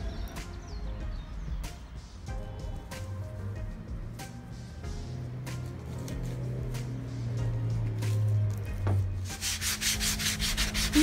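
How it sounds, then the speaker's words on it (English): Hand sanding of a cast cement door stop to a smooth finish, a steady rubbing scrape that continues throughout, growing a bit louder and harsher toward the end. "Now sand down to leave a smooth finish"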